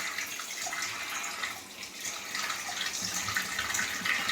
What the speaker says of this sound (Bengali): মাছগুলো এক একে ভালো করে ধুয়ে নিই